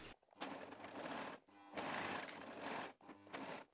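A sewing machine stitches a jersey seam for an easy top in three sustained bursts, each run loud and close with brief pauses between as the fabric is repositioned.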